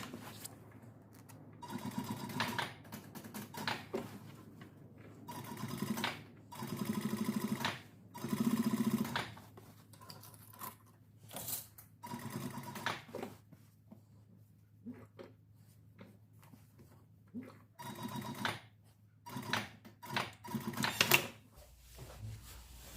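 A sewing machine stitches a denim jacket, running in repeated bursts of rapid mechanical chatter separated by short pauses, loud and close.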